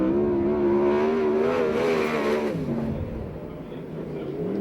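Sprint car engine roaring on a qualifying lap at an oval track, a steady loud howl that holds high then drops in pitch and fades slightly as the car moves away.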